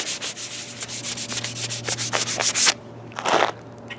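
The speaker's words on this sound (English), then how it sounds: "I'm just going to go crazy with the sandpaper here." Sandpaper rubs a guitar headstock in quick, rough back-and-forth strokes, close and steady with a low hum underneath. The scraping stops briefly, then a final short burst of sanding follows, with no talking.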